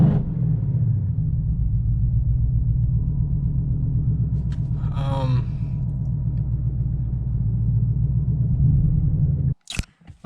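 A 2014 Mustang GT V8 with a Boss 302 intake manifold idles with a deep rumble and an uneven, loping pulse, loud and close, before cutting off abruptly near the end.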